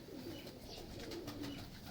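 Pigeons kept by a fancier, including birds of a mistri breed, cooing softly in a low repeated murmur at a steady faint level, with no talking over them.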